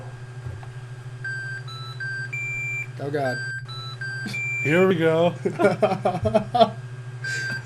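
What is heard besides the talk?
electronic device beeping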